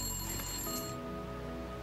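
A telephone rings in The Long Dark survival video game, a bright electronic ring that cuts off abruptly and leaves a steady background tone.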